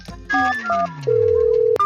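A telephone call is dialed, with a run of short electronic beeps followed by a long steady tone and a clipped click at the end, close and clear.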